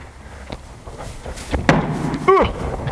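Palms slapping down hard on an obstacle during a poorly executed parkour kong vault, a loud flat smack near the middle followed by a second heavy thud, with faint background noise.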